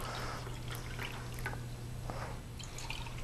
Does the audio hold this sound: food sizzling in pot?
no